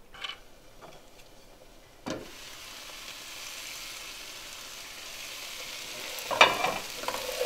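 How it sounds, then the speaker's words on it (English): Cauliflower cooks and steams in a pan for aloo gobi before spices go in, a low steady sizzle and hiss with a few scraping stirs and clicks near the start and end. "the cauliflower has been cooking for the last few minutes and just getting nicely steamed before we add the spices"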